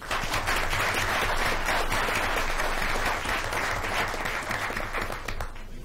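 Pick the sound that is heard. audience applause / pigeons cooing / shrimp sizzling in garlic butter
audience applause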